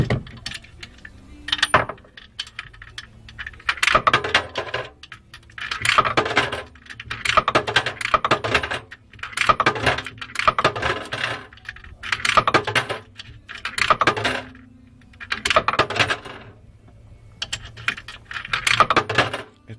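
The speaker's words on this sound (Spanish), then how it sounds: "E ingresamos 20 monedas de 100 grandes." Twenty 100-peso coins being fed one after another into a smart coin box, giving a steady series of metallic clinks and rattles in regular bursts, close and fairly loud, with no talking.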